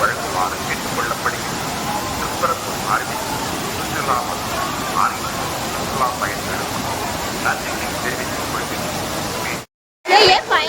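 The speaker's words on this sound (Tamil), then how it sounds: "நம்ம ஃபால்ஸ்க்கு வந்திருக்கோம்" A waterfall in Kerala roars as a steady, loud broadband rush that fills the whole stretch, with voices faintly audible over it and a brief dropout near the end.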